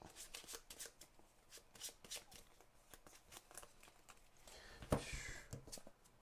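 A deck of cards being shuffled during a two-player game of the board game Aeon's End, heard as a quiet run of rapid riffling flutters and taps, close but soft, ending with a brief louder riffle near the end.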